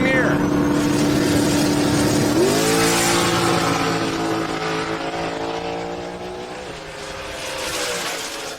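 Drag race car that finished runner-up at Streetcar Takeover blasts down the strip at Sick Summer, a loud sustained engine note climbing through gear changes, with a commentator talking over it throughout.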